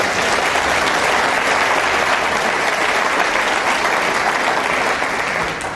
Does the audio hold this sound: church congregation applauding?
yes